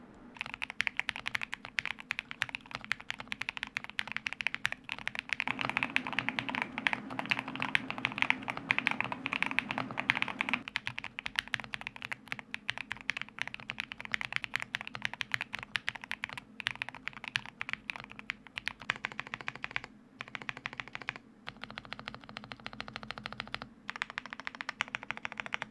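Steady, fast typing on a budget GMK67 mechanical keyboard, a close stream of crisp clacky keystrokes lasting throughout with brief pauses and no voices.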